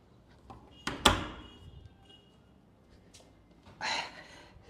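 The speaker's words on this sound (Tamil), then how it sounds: "கதவு முட்டு வந்துடுறேன்." An indoor door is pushed shut with a sharp knock and rattle near the start, followed by a softer scraping thud a few seconds later, in an otherwise quiet room.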